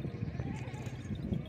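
A large goat bleats faintly over a low, noisy background, with a few short wavering calls, at a livestock market in Lahore.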